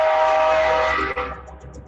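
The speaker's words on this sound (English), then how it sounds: "I hear that train coming." A train sounds a long, steady horn blast heard at moderate distance, fading out after about a second with faint rumble beneath, no talking over it.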